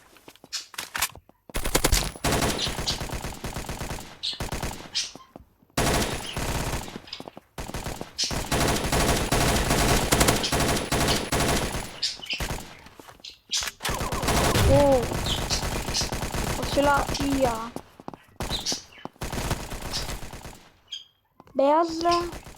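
Automatic gunfire rattles through a video game in long, loud bursts of rapid shots separated by brief pauses, while a player talks intermittently over the shooting.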